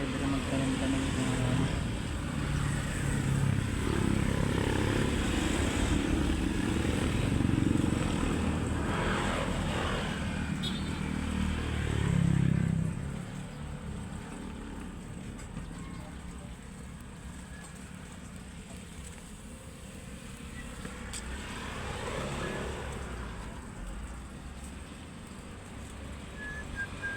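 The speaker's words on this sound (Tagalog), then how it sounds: "tabing kalsada tayo eh, kaya maingay talaga" Steady roadside traffic passing near a backyard garden, a continuous broadband rumble with louder swells of passing vehicles and a faint voice underneath.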